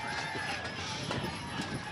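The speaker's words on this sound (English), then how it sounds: "we're looking at, I believe, the Wells Fargo Advisors with great horse-drawn carriage" A horse-drawn carriage in a St. Patrick's Day parade in Cleveland, hooves clip-clopping steadily amid dense crowd and street noise, with talk underneath.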